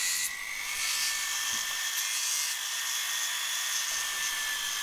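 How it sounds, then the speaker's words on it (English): A high-pitched whining rotary silicone polishing wheel grinding steadily against copper jewellery, close and continuous, with slight shifts in pitch as pressure changes. "I'm going to move on to the second stage of polishing, and I'm using one of the silicone wheels here"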